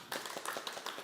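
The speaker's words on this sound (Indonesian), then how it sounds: "Ngobat, tepuk tangan." Rapid hand clapping during an outbound group game, about half a dozen quick, bright claps in an uneven rhythm within a second, close and clear.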